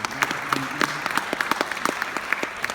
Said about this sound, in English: Let's give him a round of applause from afar.